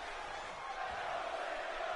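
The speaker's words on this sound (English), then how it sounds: "the in-game crowd is hot for this one" A WWE 2K19 wrestling match crowd roars steadily in the background, a continuous distant wash of cheering with no individual voices standing out.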